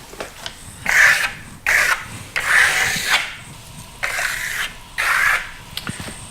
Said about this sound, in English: We'll start to compress it and burnish it.